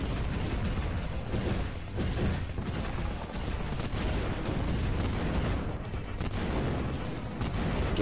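Explosive booms and bursts from the video game Super Control Mecha MG on the Nintendo DS, loud and dense throughout with mechanical clatter running steadily underneath.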